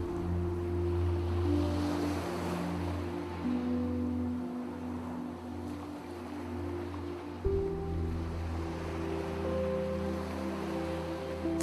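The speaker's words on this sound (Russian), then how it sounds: "Вслушиваясь в шум каждой волны, в звук этой музыки" Ocean waves wash steadily beneath a layer of calm, sustained music, producing a soft, continuous surf that rises and falls throughout with no voices.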